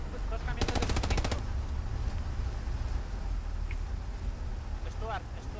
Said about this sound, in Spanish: No sé quién ha disparado cerca mía, pero casi me revientan